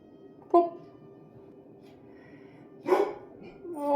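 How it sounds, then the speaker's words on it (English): Scout, a dog, lets out a few separate barks indoors: one short bark early, a louder burst near the end and another starting at the close, over a low background hum. "She's been barking since the dawn of time"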